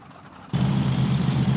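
Lockheed Constellation's 18-cylinder turbo-compound supercharged radial engines in X-Plane, a quiet lull broken by an abrupt start into a loud, steady, rumbling roar that holds on.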